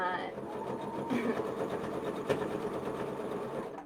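An embroidery machine used for regular sewing runs steadily nearby, a fast mechanical whirring hum throughout with a brief knock midway, while a person talks over it.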